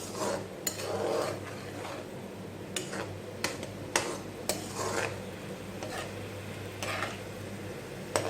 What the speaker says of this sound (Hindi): हमारी सब्जियां अच्छी तरीके से फ्राई हो रही हैं